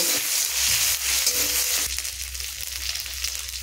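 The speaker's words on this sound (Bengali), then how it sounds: "আদা রসুনটাকেও আমি সুন্দর করে ভেজে নেব" Ginger garlic paste sizzles steadily in a hot pan, with a stirring scrape partway through as the frying continues close up.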